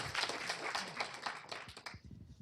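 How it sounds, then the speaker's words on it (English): A short burst of applause from a crowd, dense clapping that fades out quickly. "Let's give Barry a round of applause and the South Cobb Lions"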